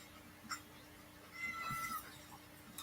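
A farm cat gives a short, faint meow, then a longer, higher meow a moment later. Both are quiet against a low hum, and no one is talking.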